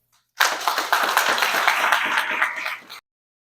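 Audience at a Haitian intergenerational dialogue event on HIV prevention and early pregnancy bursts into steady applause lasting a few seconds, many hands clapping close and bright, then stopping abruptly.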